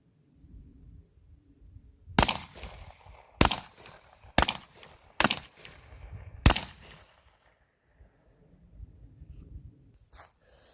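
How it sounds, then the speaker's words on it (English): Five sharp suppressed shots from a Glock 20 pistol fitted with a SilencerCo Hybrid 46M suppressor in short configuration, fired at uneven intervals of about one second, each a crisp loud crack with a brief tail, outdoors with quiet gaps between. "First shot's going to be with the Glock 20 Hybrid 46M short configuration."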